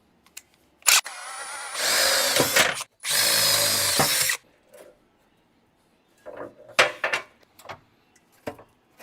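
Power tool driving rib nuts on an electric fan kit for a 1953 Chevy radiator: two loud bursts of whirring, about a second and a half each, then scattered clicks and clatter from handling parts, with no talking.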